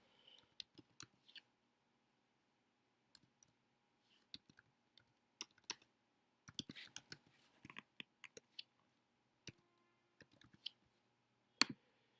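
Sparse, quiet keyboard clicks come in small clusters as an email address is typed on a computer, with long silent gaps between bursts of keystrokes.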